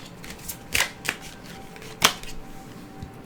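Tarot cards shuffled by hand before another card is drawn, a few sharp riffling bursts and soft card slaps, close and quiet with no talk.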